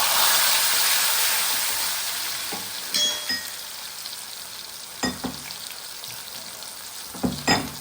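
Chopped tomatoes and asafoetida fry in a hot pan with a strong, steady sizzle that eases gradually, broken by a few clinks and stirring scrapes, close up.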